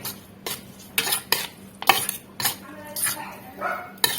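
Instant tom yum shrimp noodles with grilled pork are stirred in a pot, about eight scraping and clinking strokes in a steady rhythm, close and clear against a faint background.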